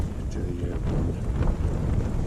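Wind buffets the microphone in a continuous, rough, close-up roar at a hillside wild camp on Hallin Fell in December.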